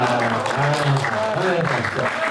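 An audience at a ghazal concert in Sarwanam Theatre claps steadily as someone speaks over the applause, which fills the background throughout the short stretch.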